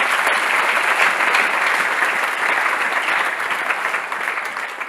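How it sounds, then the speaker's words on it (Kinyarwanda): Audience at a gospel concert applauding loudly, a dense sustained roar of many hands clapping that fades slightly toward the end, with no talk. "nimuyintera amashyi menshi cyane"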